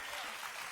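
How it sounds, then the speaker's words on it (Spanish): A church congregation applauds its pastor, a brief, dense wash of clapping from many hands in a reverberant hall. "Un aplauso para esta pastora bella."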